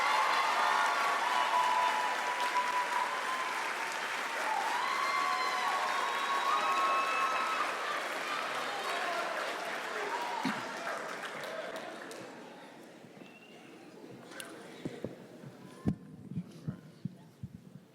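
Audience at a commencement ceremony applauding to welcome the speaker, a sustained loud wave of clapping with some cheers that gradually thins out, leaving scattered individual claps at the end.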